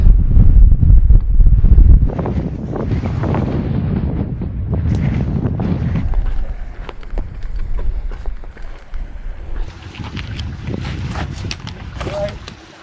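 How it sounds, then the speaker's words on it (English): Strong wind buffets the microphone in loud, rumbling gusts on the gritstone edges of the Peak District, heaviest at the start, with a few faint voices and outdoor sounds underneath. "I can't believe how windy it is."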